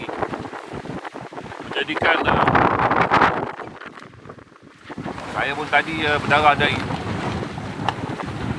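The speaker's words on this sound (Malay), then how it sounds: "Tapi angin ni juga datang dengan ombak yang tinggi" Strong wind roars and buffets a sailboat riding high waves at sea, the rushing gusts and water surging loud and steady while someone talks over it throughout.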